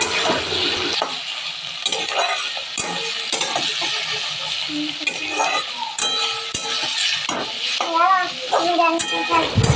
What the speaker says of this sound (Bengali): এখন ভালো করে ভাজা ভাজা করতে হবে